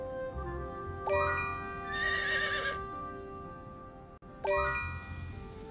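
A tamed horse in the video game Palworld neighs loudly twice, each whinny a long rising-and-falling call, with a soft steady game soundscape between the calls.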